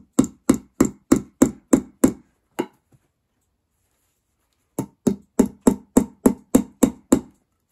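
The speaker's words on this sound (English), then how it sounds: "And I'm going to hammer it down." Sharp hammer blows strike wood in a quick steady run of about seven, a pause, then another rapid series of nine, close and alone.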